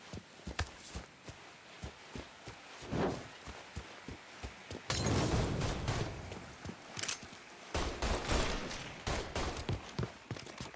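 Gunfire in the video game Mafia III, a run of sharp, close shots in a loose rhythm with a burst of heavier noise midway and brief pops scattered throughout.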